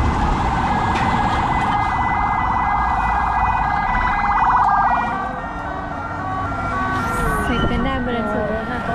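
An ambulance siren wails nearby in a steady, loud, wavering tone that shifts pitch toward the end, with people talking under it.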